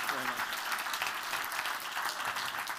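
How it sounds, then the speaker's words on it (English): A theater audience at a TED talk applauds in a dense, continuous wash of clapping, moderately loud and sustained from start to finish, with no break. "Give them both a big round of applause."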